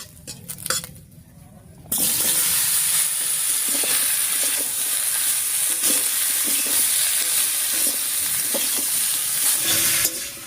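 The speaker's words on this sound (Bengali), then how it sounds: "ফোড়নের উপরে কুমড়োটা দিয়ে একটু নাড়িয়ে নিয়েছি" Diced ash gourd dropped onto cumin seeds, a dried red chilli and bay leaves in hot oil, bursting into a loud, steady sizzle after a quiet start, with faint stirring scrapes and clinks throughout.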